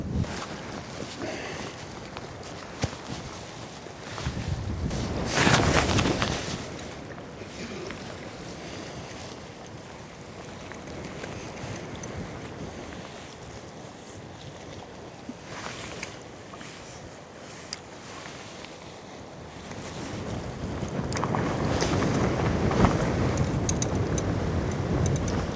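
Wind buffets a boat at sea on the Mediterranean during a fishing trip, a continuous rushing roar with water wash that swells loudly at the start and again toward the end, with no voices.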